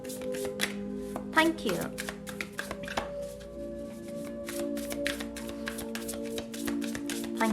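Tarot cards shuffled by hand during a Libra horoscope reading, a rapid run of soft flicking riffles close to the microphone, with a brief spoken phrase and a steady background hum.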